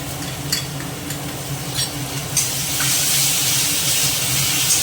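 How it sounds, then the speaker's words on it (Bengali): Ginger and chilli paste fries in a pan for a dhaba-style egg curry, giving a steady sizzle and hiss. Scraping stirring strokes break through it a few times. "এটা নেড়ে নিয়ে আদা লঙ্কাটা ভাজা হয়ে গেছে"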